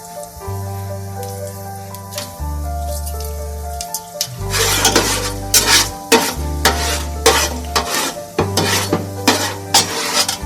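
Bay leaves and garam masala crackle and sizzle in hot oil with fenugreek, bright bursts of frying noise over a low hum, a few clinks and stirring sounds, no talking.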